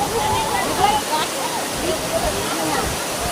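Steady, loud rushing of a waterfall fills the whole clip, a constant roar of falling water with voices faintly mixed in.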